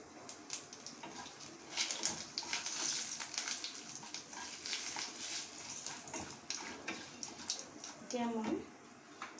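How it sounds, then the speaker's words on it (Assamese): Dried chili, bay leaf and panch phoron sizzle in hot oil for banana kofta, a steady close crackling hiss running throughout with brief louder bursts, while a voice speaks over it. "তেলখিনি গৰম হোৱাৰ লগে লগে শুকান জলকীয়াটো, তেজপাতটো আৰু অকণমান পাঁচফোৰণ দি দিছোঁ।"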